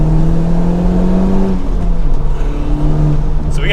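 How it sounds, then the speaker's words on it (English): An older Honda Civic Type-R, warmed up with 32,000 miles on it, revs close and loud, the engine note climbing through a gear and then rising again after a shift. "So car's warmed up, just a couple accelerations to feel it out."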